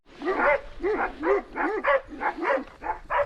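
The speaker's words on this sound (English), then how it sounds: "Here comes a big fluffy dog." A big fluffy dog barks repeatedly outdoors, about eight loud, evenly spaced woofs in a quick rhythm, close and clear with no talk over them.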